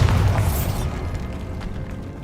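Bombarda explosion spell in Hogwarts Legacy, a loud booming blast at the start that rumbles and decays into a fading crackling tail, alone without talk.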